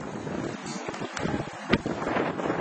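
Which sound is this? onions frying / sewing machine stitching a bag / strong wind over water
strong wind over water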